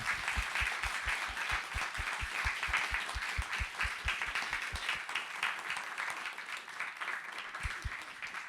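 Audience applause closing an evening poetry reading and conversation event, broad steady clapping from a room of listeners that holds level for several seconds before thinning out, with some sharper close claps near the start.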